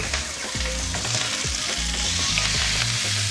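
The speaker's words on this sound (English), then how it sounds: "Stir fry in the pan for about a minute" Broccoli stems and garlic stir-frying in a hot pan, with a loud continuous sizzle and repeated scraping stirs close by, and no talking.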